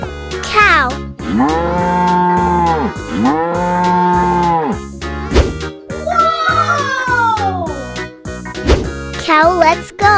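A cartoon cow in a children's animated sliding game lets out several long, drawn-out moos in quick succession, loud and close, with bending pitch and other playful effects around them.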